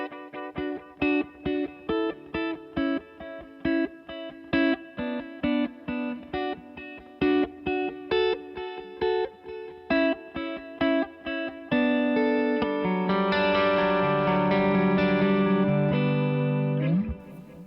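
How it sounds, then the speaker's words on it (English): Guitar amp's cosmic echo effect, set like a multi-head space echo with heads 2 and 3 engaged, turns a distorted rhythmic riff into repeating trailing echoes, then a held chord swells into a dense wash of repeats before cutting off. "So last effect is this cosmic echo. Listen to this. It's like a multi-head space echo"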